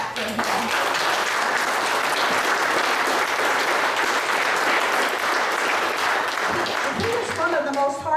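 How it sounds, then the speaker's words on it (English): Sustained audience applause at a Grays Harbor Democrats gathering, loud and steady for about seven seconds before fading as a voice begins speaking near the end. "Can you clap for him?"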